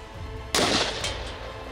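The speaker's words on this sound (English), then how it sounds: "they decided to raise the bar by firing a higher velocity round into the windshield, this time with an AK-47" A single sharp AK-47 shot of a 7.62x39 mm, 123-grain round strikes a Level A9/B6+ bulletproof windshield, a loud close crack with a short ringing tail fading into the background.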